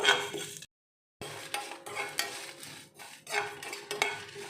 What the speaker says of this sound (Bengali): এবার গ্যাসের তাওয়ার মধ্যে দেব হচ্ছে শুকনো লঙ্কা, তারপরে মৌরি দিলাম, 5 ফোড়ন দিলাম